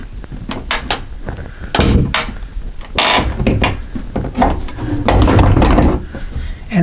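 A sliding closet door is pushed back and lifted out of its track, giving close, loud wooden knocks, clunks and rattling scrapes that come in irregular bursts with no talking.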